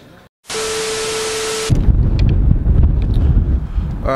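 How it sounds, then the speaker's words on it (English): Strong wind blows outside a mall, first as a sudden steady roar of wind against the microphone, then a heavier gusting rumble that buffets unevenly through the rest. "this wind is smacking everybody up right now"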